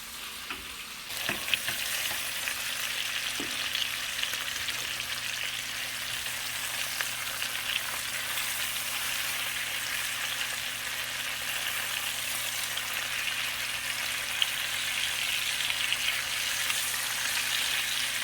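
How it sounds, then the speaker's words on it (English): Chicken thighs browning in melted butter in a hot pan give off a steady, dense sizzle that holds evenly for the whole stretch, close up and with no talking. "I'm just going to brown them on both sides."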